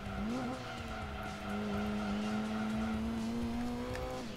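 A Mazda RX-7 races in Gran Turismo 2. The engine holds a steady, loud drone with a slight rise in pitch, and tires squeal along with it. No one talks.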